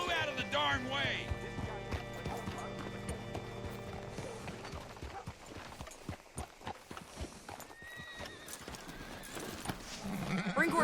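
Horse hooves clip-clop in Red Dead Redemption 2 as a rider reaches a town hitching post, with a snort or whinny at the start and steady hoof thuds under talk and game sounds.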